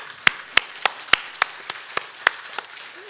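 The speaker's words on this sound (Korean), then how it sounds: "하나님께 우리 영광의 박수 한번 올려드릴까요?" Sparse, distinct claps in a church service, about a dozen sharp hand strikes in a loose, fairly regular rhythm, close and clear against a quiet background.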